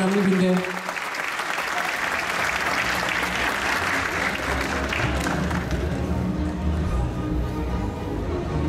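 Audience applause at a 10 November Atatürk commemoration ceremony held by a municipality in Şile, a dense, steady clapping from a crowd lasting throughout, fairly loud and even.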